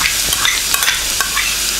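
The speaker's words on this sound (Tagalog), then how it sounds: "magpapainit lang tayo ng oil, and then magigisa na tayo yung garlic" Garlic and onion sauté in hot oil in a pan for Filipino picadillo, a loud close sizzle and crackle with stirring scrapes, continuous and without any talking.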